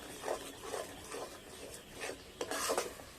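Semolina is stirred by hand into water in a wok, making soft rhythmic rubbing and scraping strokes about twice a second, close and fairly quiet, with a brighter clatter near the end and no talking.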